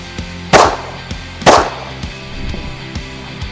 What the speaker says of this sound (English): we just finished up shooting our backpack panel with the 45